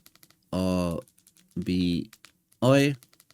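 Someone types the word Orbi into a streaming app search box. Faint, close key clicks tick steadily in between three loud spoken bursts that sound like a device voice.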